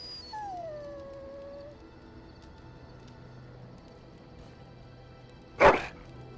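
A dog gives a long falling howl, then goes quiet under low background noise until a single sharp, loud bark near the end.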